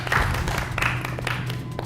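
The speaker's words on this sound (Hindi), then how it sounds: "अपने लिए आप तालियां बजा सकते हैं" Audience at the Champions entertainment show claps steadily for the performers, a dense spread of hand claps with a few brief louder bursts, sitting over a constant low hum from the venue.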